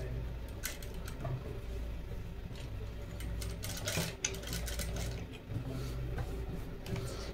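A sewing machine stitches the boat-neck back of a blouse, a faint continuous mechanical whir with light ticking needle clicks.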